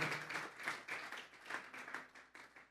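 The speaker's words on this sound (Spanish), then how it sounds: "Vamos a darle una ofrenda de palmas a Dios en esta hora." A church congregation at a Spanish-language sermon breaks into applause, a soft, distant wash of steady clapping that swells and dips for a few seconds.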